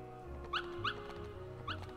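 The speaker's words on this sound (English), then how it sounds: "I think one of the dog's name is Pongo" A dog in the video game Kingdom Hearts gives three short, high yips over soft background game music.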